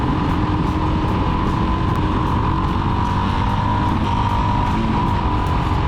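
A Royal Enfield Himalayan motorcycle runs on its stock exhaust and stock air filter, a loud, steady engine drone holding a constant note throughout, close by with no speech.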